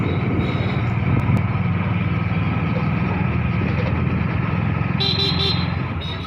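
A motorcycle drones steadily along a road, its engine noise loud and continuous, with a brief higher tone near the end.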